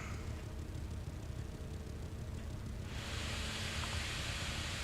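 A computer's cooling fan runs with its fan booster on, a steady airy whoosh that swells noticeably louder and brighter partway through, then holds at the higher level with no talking.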